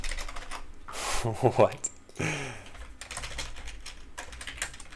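Quick, clicky keystrokes on a mechanical keyboard with blue switches, typed in short bursts at close range, with a voice speaking briefly over the typing.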